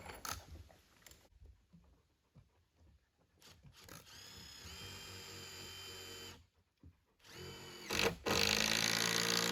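Power drill boring into solid home-milled 8-inch wood while a cabin floor goes in, running in several bursts with pauses and a loud sustained stretch near the end, close by.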